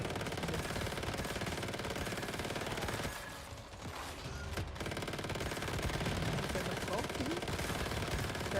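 Rapid automatic gunfire from the video game Once Human, dense and loud bursts running almost continuously, with a brief lull near the middle before the shooting resumes.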